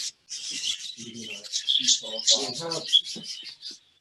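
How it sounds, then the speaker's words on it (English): Small birds in an indoor aviary bird room chirp and twitter in quick, bright bursts close by, with a few lower scratchy rustles mixed between the calls. "We'll just move the laptop over to where the birds are."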